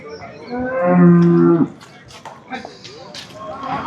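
Buffalo calves of Murrah and Jaffarabadi breeds at Erragadda cattle market give a long, loud, harmonic moo lasting about a second, followed by quieter market noise and faint further calls.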